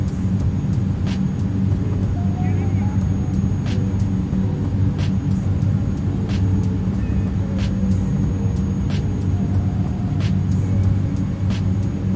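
Steady, loud turboprop drone from an ATR-72-600's engines at reduced power in Microsoft Flight Simulator, a continuous low hum with faint periodic clicks and no voices.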